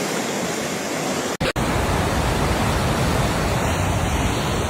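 A flooded river in Uzbekistan rushes past in a steady, loud, broadband roar, broken only by a very brief dropout near the start before the torrent continues unchanged.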